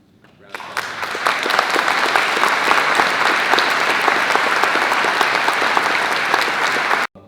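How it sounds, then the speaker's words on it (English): A convention audience at a Halloween film panel claps loudly and continuously for several seconds, a dense roar of hands that starts abruptly and cuts off sharply at the end. "So thank you for that lovely round of applause."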